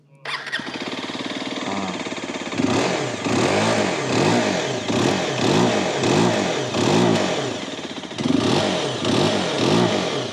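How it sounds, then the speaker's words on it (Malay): A CFMOTO 125NK 125cc motorcycle engine cranks and catches, then revs repeatedly in steady rising-and-falling surges, loud and close, with a final stronger rev near the end. "kita akan start motor juga"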